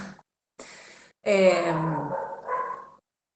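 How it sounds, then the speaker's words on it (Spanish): A neighbour's dog barks in a few short bursts followed by a longer yelping, whining call, moderately close and alone. "ya que estoy escuchando al perro del vecino"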